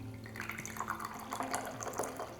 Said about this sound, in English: Shall we test our first pour? Let's see how this pours.